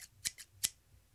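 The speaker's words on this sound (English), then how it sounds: "as his scissors went" Scissors snip through cloth in a few quick, crisp cuts, close and fairly quiet, with no talking.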